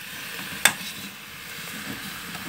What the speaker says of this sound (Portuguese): Já manda a rabada já pra dentro da panela, só na tranquilidade.